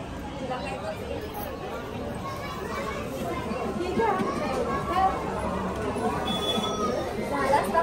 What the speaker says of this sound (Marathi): तुफान गर्दी आहे, तुफान.